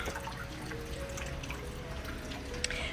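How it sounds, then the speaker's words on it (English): Water trickles and drips steadily in a garden water feature at a luxury villa in Puerto Vallarta, a soft continuous splashing with faint droplet ticks, moderately close, with no talk. "Another water feature here."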